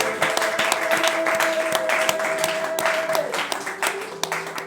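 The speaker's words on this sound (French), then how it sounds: "Acclamons la parole de Dieu" A church congregation applauds steadily and densely throughout, a sustained wash of many hands clapping with a sung or spoken voice underneath.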